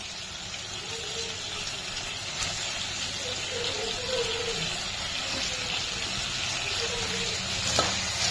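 Paneer pieces tossed with softened capsicum and tomato in a pan for chili paneer, stirred through a steady, close frying sizzle that hisses on for several seconds with a few scraping stirs.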